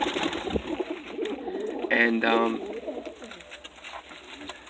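Pigeons cooing up close, soft rounded coos clustered in the middle of the stretch over quiet background rustle, while someone talks briefly.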